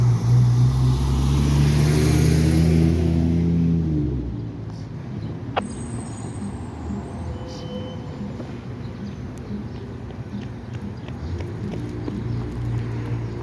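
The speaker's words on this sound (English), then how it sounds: "Traffic going outbound looks like it's more than going inbound." Road traffic passing near Jackson Station during an Orange Line shutdown, a steady wash of vehicle noise with a louder nearby engine at first, then a constant rumble of passing cars.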